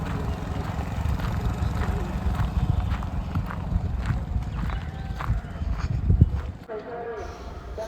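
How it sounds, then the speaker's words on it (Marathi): Hooves clop steadily as bullock carts roll in for a village bullock cart race at a fair, with a busy crowd murmuring and voices talking throughout. "सर्वजण आपले बैलगाड्या घेऊन आलेत."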